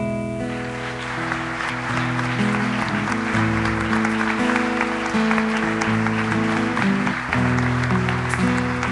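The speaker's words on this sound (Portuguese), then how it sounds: "Aplauda o Senhor." A church congregation applauds during a worship service, a broad, steady clapping texture mixed under sustained keyboard music that plays throughout.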